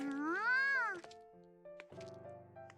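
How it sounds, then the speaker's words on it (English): A cat named Eru in a video game gives one clear, rising-and-falling meow up close, followed by quieter game sounds and music. "Eru interrupts my skepticism with a meow."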